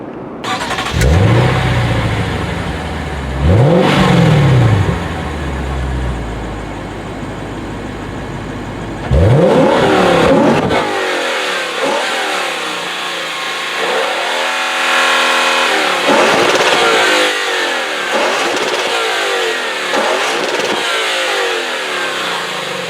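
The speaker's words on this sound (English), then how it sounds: "connected to the titanium exhaust system with a nice loud growl" A 2021 Lexus RC-F Fuji Speedway Edition with titanium exhaust revs loudly up close, giving several rising and falling blips, then a long burst of engine growl with wind buffeting and no talk.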